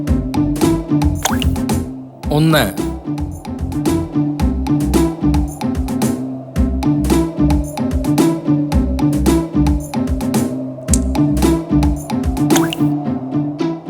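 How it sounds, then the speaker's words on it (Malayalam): In a cartoon, a crow drops stones one by one into a water jar, making a quick, regular series of small plops and drips over background music, with a voice briefly counting. "കാക്ക ആ ഭരണിക്കുള്ളിലേക്ക് ഓരോരോ കല്ലായി എടുത്തിട്ടു"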